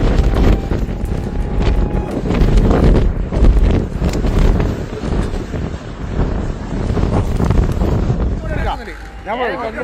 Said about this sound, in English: A dust storm can erase visibility in seconds.